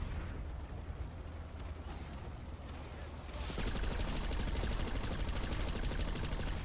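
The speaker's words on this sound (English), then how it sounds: "Shoot with a gun at something like 100 meters away." Gunfire in the video game Planetside 2, a dense continuous rattle of rapid shots that grows louder partway through, with battle noise filling the background.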